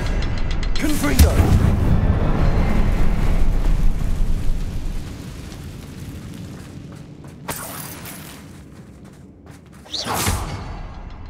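Fiery blasts from the Confringo spell in Hogwarts Legacy, with a sharp burst early on and another near the end, over rumbling game ambience and a continuous low roar.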